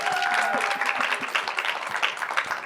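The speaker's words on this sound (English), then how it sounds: "I like the cheering section." Live audience applause with scattered cheers at a hosted talk event in Detroit, dense steady clapping throughout, fairly loud and close, with a brief faint whistle-like tone early on.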